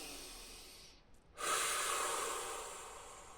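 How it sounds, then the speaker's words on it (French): A deep breath in, then a long, audible exhale during guided meditation, close and clear, the outbreath a soft rushing hiss that slowly fades. "Prenez une respiration profonde, laissez tout aller."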